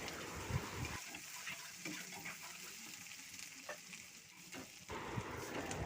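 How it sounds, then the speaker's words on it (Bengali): Ginger garlic paste frying in a pan, a steady close sizzle with faint scraping from stirring, quieter for a few seconds in the middle before the hiss swells again, with no talking. "আদা রসুনের পেস্টটা দিয়ে দিতে হবে এবং কিছুক্ষণ ভেজে নিতে হবে যাতে কাঁচা গন্ধটা চলে যায়"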